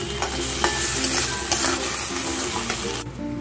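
A spoon stirs chana saag with shrimp in a hot pan, steady sizzling and frying with soft scraping strokes at close range, continuous and moderately loud, with no voices.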